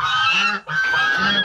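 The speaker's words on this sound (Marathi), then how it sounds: "ह्या समोरच तुम्हाला पहिले हे बदक बघायला मिळतील." Farm poultry on a village farm near Morba, with loud, close honking calls in two bursts separated by a short gap, clearly goose- or duck-like and heard alone without talk.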